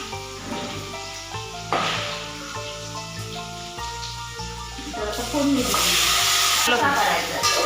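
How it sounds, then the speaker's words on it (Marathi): Ground masala spices and onion paste fry in oil for a Malvani chicken rassa in a small pot. The sizzle flares in bursts over a tonal music-like background. "आईने फोडणी दिलंय सर्व लावून घेतलेले होते मसाले तेलामध्ये छान असं परतून घ्यायचं"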